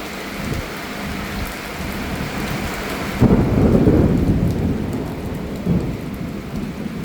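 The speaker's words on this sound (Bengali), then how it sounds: "হঠাৎ কালবৈশাখী ঝড় ঢাকার সদরঘাটে দর্শক দেখতে পাচ্ছেন" A sudden Kalbaishakhi storm hits Sadarghat in Dhaka, with launches moored nearby. Heavy rain hisses steadily on surfaces while a deep rumbling thunderclap rolls in midway and lingers, loud and close.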